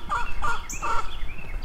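Backyard coop chickens with a rooster cluck and squawk in three or four quick loud calls close by, with fowl chatter continuing around them.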